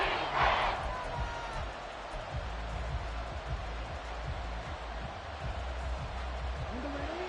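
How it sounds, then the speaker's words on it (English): A football stadium crowd in the fourth quarter on third and long, a dense sustained roar that swells early and then holds steady, heard alone without talk. "This crowd turning up the decibel level."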